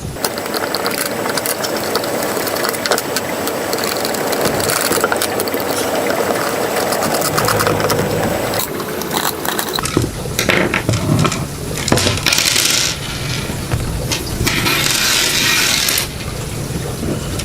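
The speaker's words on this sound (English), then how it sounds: "there are 4 screws and you get a screwdriver in the box. So let's open one of these up." Screws being backed out of a Blagdon Powersafe electrical switch box with a hand screwdriver, giving a steady run of close ratcheting, clicking and scraping with small metallic knocks and plastic handling noises, without speech.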